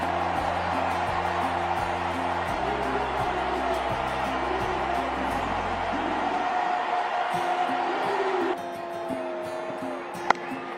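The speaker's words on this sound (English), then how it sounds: "Listen to the crowd here in Mumbai" A packed cricket stadium crowd in Mumbai roars through an India vs West Indies T20 semi-final as Kohli reaches a half century, a loud sustained din that thins and drops away near the end, with a sharp bang close to the finish.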